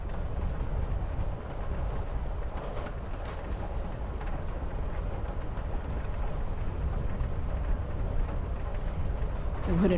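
Train riding ambience in the video game Life is Strange: Before the Storm, a steady rumbling, rattling clatter of the carriage with rhythmic knocks, continuous and fairly loud throughout.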